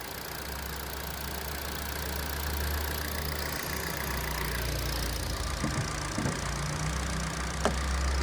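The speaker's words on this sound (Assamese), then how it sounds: "ইঞ্জিনৰ চাউণ্ডটো শুনক গাইজ" A used Hyundai Verna 1.6 engine idles steadily with a low, even rumble, close by and continuous, with a couple of faint clicks near the end.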